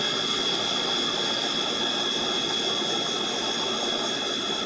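Condensing unit of a walk-in beer cooler running R12 refrigerant, fitted with a newly replaced condenser motor, gives a steady, loud, close whirring hum with a high whine and no voices.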